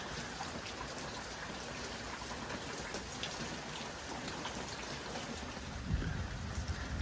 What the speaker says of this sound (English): It's now been raining for about 5 hours